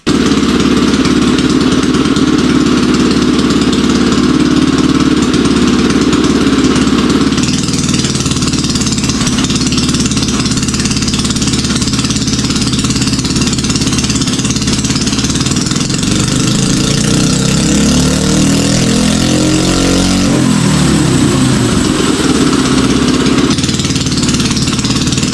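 A 79cc mini bike engine with its carburetor needle moved to the fourth clip position for a richer mixture runs steadily at idle, then its pitch and speed rise and fall as the throttle is worked, loud and close without talk.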